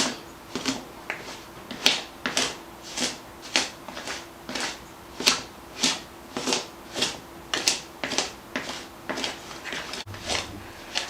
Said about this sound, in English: we're going to use our pastry blender, and I'm just going to cut in this shortening